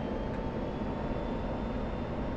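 Steady, loud roar of an F-16C Viper jet engine in the DCS World flight simulator during an air-to-air refueling flight, a continuous broadband rush with a faint high whine and no pauses.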